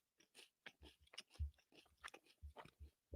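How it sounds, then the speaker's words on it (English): Person chewing food close to the microphone, quiet irregular crunchy bites and wet mastication sounds in quick bursts with brief pauses between. "You guys are gonna hear me chew."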